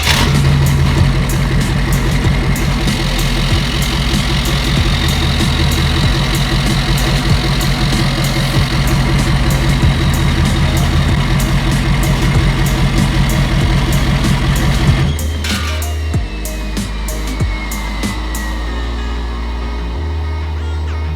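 Ford F250 pickup engine idling with its exhaust removed, a loud, raw, continuous rumble close up that drops in level and roughness near the end as it settles or shuts down.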